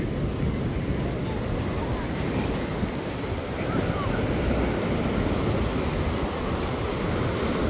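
Surf rolls onto a crowded beach at Rosarito on a Friday afternoon, a constant broad roar of waves mixed with wind buffeting the microphone, with faint voices in the background.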